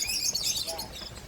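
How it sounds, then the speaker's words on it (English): Lovebirds at a wildlife park give a quick burst of high, bright chirps, fairly faint and brief, with faint background murmur. "some very talkative lovebirds. that are very vocal and colorful."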